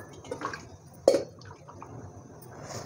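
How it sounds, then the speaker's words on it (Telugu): Coriander and curry leaves being washed in water in a home kitchen, with quiet dripping and swishing and one brief louder splash near the middle. "పోపులోకి వెళ్ళే ముందు నేను కొత్తిమీర ప్లస్ కరివేపాకు వాష్ చేసుకుంటున్నాను."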